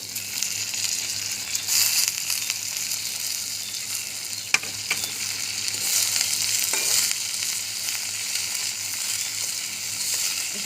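Bete shak greens frying and being stirred in a hot pan, a continuous close sizzle with scraping and stirring clatter, one sharp utensil knock midway, and no talking.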